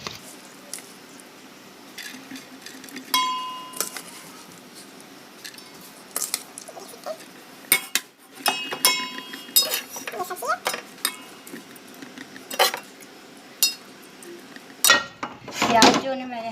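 Rice and vegetables are layered into a cooking pot for Chinese biryani: scattered clinks and scrapes of a metal spoon against the pot, with quiet stretches between, and a louder rattle near the end.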